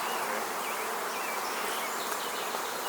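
Honey bees hum steadily at an open hive before a queen is installed, a dense, continuous buzz that fills the whole stretch with no voices over it.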